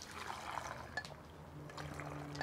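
Water is poured into a pot of ingredients for a hen broth in a rural kitchen, making a faint, close trickling and splashing that lasts a couple of seconds, with a few light clinks.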